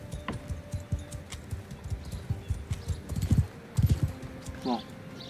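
Horse hooves in Mount & Blade II Bannerlord, a distinct clip-clop gait with irregular hoofbeats that grow heavier near the end, close and fairly loud, with no talking over it.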